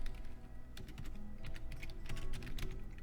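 Fingers typing on a computer keyboard while setting up a website, a rapid irregular patter of close key clicks, steady and moderately quiet, with no voices.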